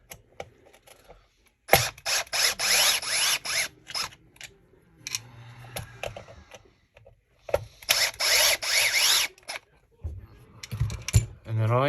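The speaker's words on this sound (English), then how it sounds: "We'll remove our bottom screws." A power driver backs bottom screws out of a Traxxas Slash slipper clutch in several short whirring bursts separated by clicks and rattles, close and fairly loud.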